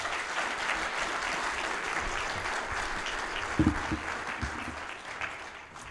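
Steady applause from a conference audience fills the space, a broad wash of clapping holding at an even level throughout.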